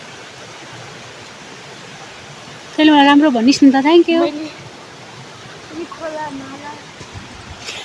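Flowing stream water on a hike near Dhap Dam makes a steady rushing hiss throughout, with two people talking briefly over it.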